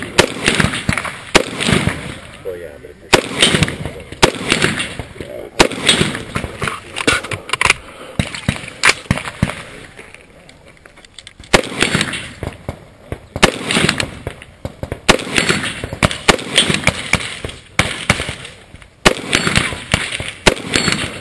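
Gunfire on an MGM Ironman shooting competition stage: loud, sharp cracks in rapid bursts and strings, with brief pauses between volleys over about twenty seconds, close to the listener.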